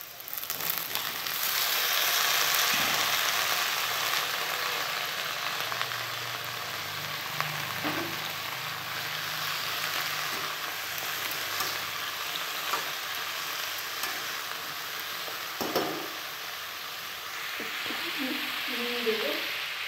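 Ridge gourd and potato pieces frying gently in oil tempered with black cumin, a steady soft sizzle throughout with occasional stirring clinks and scrapes, no talking.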